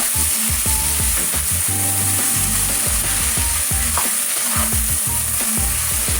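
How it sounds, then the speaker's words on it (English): Chunks of beef caramelizing in a frying pan for a stew, a loud continuous sizzle with repeated scraping stirring strokes, close up and without talk. "We're caramelizing it now. That nice caramelization."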